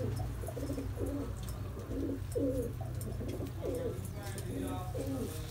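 Pigeons bred for fancy breeding give a run of low, rounded coos in a steady rhythm, repeating about every half second over a constant low hum, with no voices in between.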